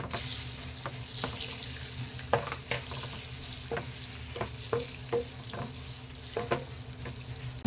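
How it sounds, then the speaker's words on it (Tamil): Eggs fry and are stirred in a masala for egg biryani, a steady soft sizzle broken by repeated sharp scraping clicks of a spoon against the pan, close and fairly quiet. "இப்போ இந்த மசாலாலே முட்டையை கொஞ்சம் நேரம் வறுத்துட்டு"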